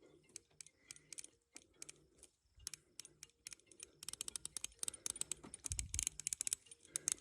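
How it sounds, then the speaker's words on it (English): Rapid clicking of a Schmidt & Bender riflescope turret being turned, many small sharp ticks close together in quick runs with brief pauses, close and fairly quiet, with no talk over it. "Now the clicks are a lot closer together. They're not as tactile or audible."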